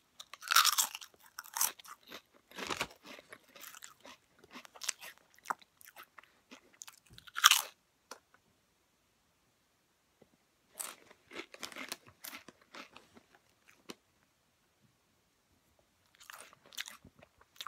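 Lay's Smokey Bacon potato chips being crunched and chewed close up, repeated crisp bites followed by chewing bursts with quiet gaps between them, no talking.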